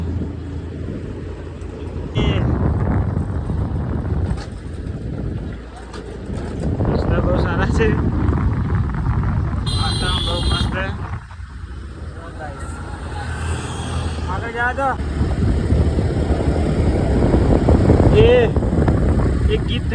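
A Honda Activa scooter riding along a road near a lake at Mount Abu, its engine droning steadily with shifts in pitch, while people talk over it and other vehicles pass.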